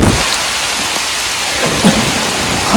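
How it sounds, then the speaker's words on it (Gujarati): Heavy midnight rain during a storm pours in a loud, dense, continuous roar, with faint low rumbles of thunder underneath and no voices. "તો મિત્રો અડધી રાતે વરસાદ આવી ગયો મારે તો"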